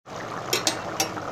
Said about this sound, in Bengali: বলক চলে এসেছে আমার